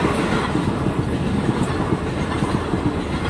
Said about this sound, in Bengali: এখন রেলটা যাচ্ছে,